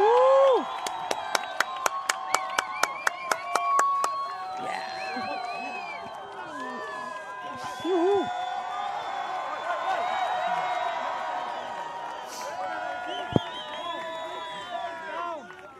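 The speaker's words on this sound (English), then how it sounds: "Your applause, please, for Lucas Chumbo Chianca and Pedro Scooby." Crowd applauding and cheering at the TUDOR Nazaré Big Wave Challenge surf awards ceremony, with sharp rhythmic claps early on, then a sustained mix of cheers and whoops, with talk over the crowd.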